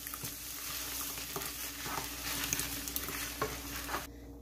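Ground beef picadillo sizzles in a frying pan with ragù sauce, a continuous soft crackle broken by scraping stirs of a utensil, close and fairly quiet.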